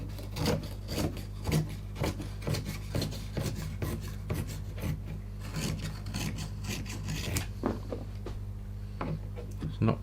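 A gelli plate being cut with a blade, making a long run of close, rhythmic rasping strokes over a steady low hum, with a few brief louder scrapes near the end.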